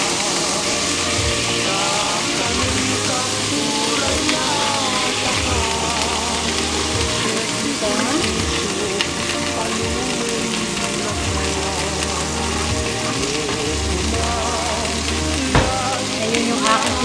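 Sesban (katuray) flowers fry in a pan of oil with a steady, loud, dense sizzle and crackle that runs unbroken, close up, with no voices over it.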